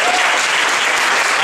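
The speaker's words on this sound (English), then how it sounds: "Give yourselves a round of applause for coming out." Dense, continuous applause from a comedy club audience at a stand-up show, loud and close, sustained evenly throughout with no voices rising above it.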